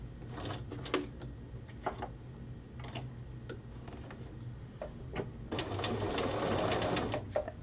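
A sewing machine stitches along a men's shirt cuff seam, close and steady, with short ticking bursts and pauses, then a longer continuous run of stitching near the end.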